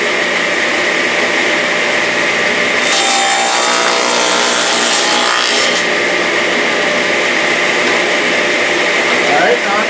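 A table saw with a tenoner jig cuts a tenon in wood, a steady loud whine under a constant machine hum, the bite deepening for a few seconds mid-clip before easing back.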